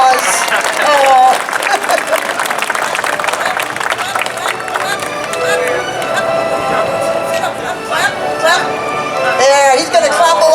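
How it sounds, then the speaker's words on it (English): Fair crowd at a performing bear show claps for Bruno the bear, a lively patter of applause and cheering mixed with an announcer's voice talking over it and bits of crowd chatter. "A well-deserved round of applause."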